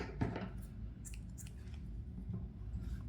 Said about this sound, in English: Cut the yarn.